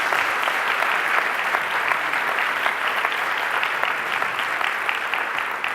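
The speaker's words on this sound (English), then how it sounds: "And let's give them a hand of applause." Conference audience applauds loudly and steadily, a dense, even wash of many hands clapping that continues without talk.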